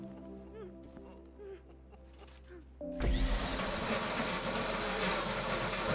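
A drill starts up abruptly partway through a bank heist in the video game GTA 5 and then runs loud and steady with a grinding, whining roar, following quieter game ambience.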